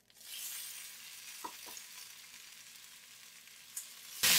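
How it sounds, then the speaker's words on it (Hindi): Vegetables (onion, capsicum, deseeded tomato) fry in oil in a pan for chicken jalfrezi, a soft steady sizzle with a couple of brief spoon scrapes midway and a louder burst of hissing at the very end. "अब इसी ऑयल में इसके अंदर डालेंगे वेजेस"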